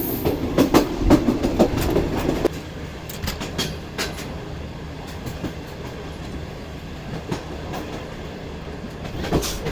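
A passenger train approaching Lakki Shah Saddar railway station rattles along with rhythmic clickety-clack wheel beats, loud and busy at first, then settling into a steadier, quieter clatter with periodic sharp knocks.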